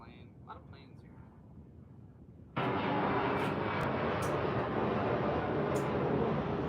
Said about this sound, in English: A lot of planes here.